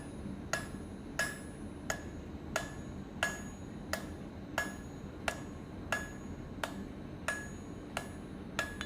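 Hot steel is hammered on an anvil to form a blunt point, with sharp ringing blows landing in a steady, even rhythm, about one every two-thirds of a second, clear and close.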